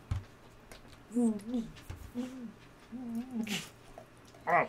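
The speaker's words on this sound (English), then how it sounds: "drowning in beer foam. I literally could not swallow that." A person choking and spluttering on a mouthful of pilsner foam, making repeated strained, wavering vocal gurgles in short bursts, close and fairly quiet, with a sharp noisy splutter toward the end.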